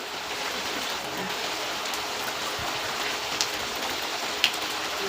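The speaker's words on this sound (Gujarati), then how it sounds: "હજી વરસાદ આમ જોરદાર આવેલો જ આવે" Heavy rain pours down in a steady, dense hiss, close and constant, with a couple of faint sharper taps breaking through.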